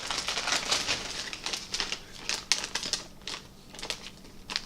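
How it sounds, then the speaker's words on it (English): A paper snack wrapper from a Japanese treat box is torn and opened nearby, giving quick irregular bursts of crinkling and rustling in short bunches with small gaps. "Sorry if you hear like crunching in the background."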